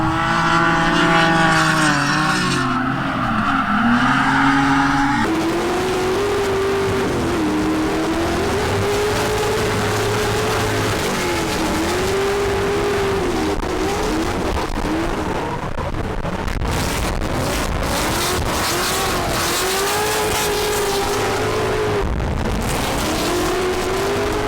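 Drift cars compete at a pro-am drift event: engines rev hard and wail up and down as the cars flick through transitions, with tire noise and passing cars close and loud, without talk.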